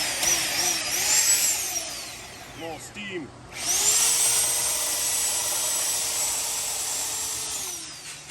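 Handheld belt sander grinding the surface of a Tahoe 5.3 exhaust manifold, a whining motor drone that pauses briefly midway and then runs steadily again, with a short spoken remark over it.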